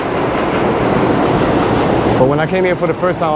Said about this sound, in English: the N train, the W train that goes to Astoria passes over here